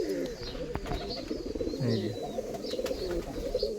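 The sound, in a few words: female Pakistani Teddy pigeon cooing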